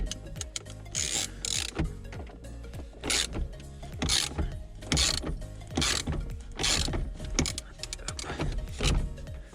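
Tools working on the steering wheel of a Ford Fiesta during a heater repair, with repeated ratcheting and metallic mechanical clicks in bursts, close and fairly loud, with no talking.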